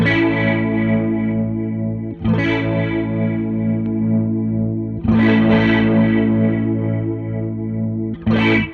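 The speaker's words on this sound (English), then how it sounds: "a rotary pedal seeks to emulate a classic piece of gear called a rotary speaker" Sustained guitar chords swirl with a warbling, rotating speaker effect from a rotary speaker emulation pedal, each chord rung out for a few seconds before the next strum.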